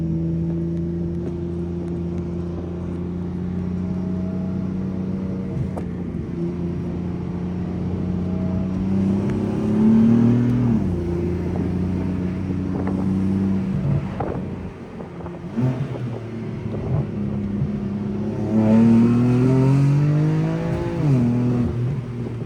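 A BMW F82 M4 pulling hard along the Marin Headlands coast road, engine rising loudly through the revs in repeated surges with shifts between, heard from inside the car with wind noise and no talk.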